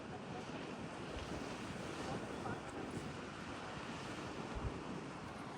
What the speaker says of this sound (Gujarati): અહીંયા જઈને મસ્ત દરિયાના મોજા આવે